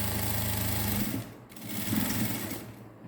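A sewing machine stitching a net blouse runs fast and steadily for about a second, then gives two shorter, softer bursts of stitching close by.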